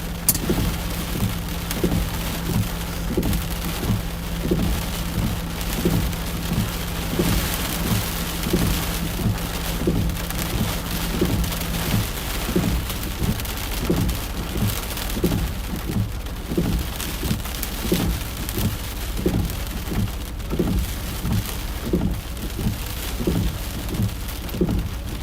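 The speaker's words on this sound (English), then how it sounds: "If it could stop raining, that would be really nice." Heavy rain pours down during a Mid-Atlantic tornado chase, a dense, steady hiss with constant pattering that carries on without a break. No one speaks.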